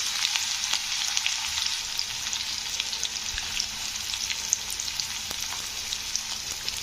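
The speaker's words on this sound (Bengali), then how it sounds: "তো এবারে আমি পেঁয়াজটা দিয়ে দিচ্ছি।" Two onions frying in a pan for a radish curry, a steady dense sizzle with faint crackles running evenly throughout, close and alone with no talk.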